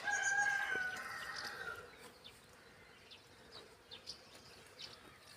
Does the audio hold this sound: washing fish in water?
no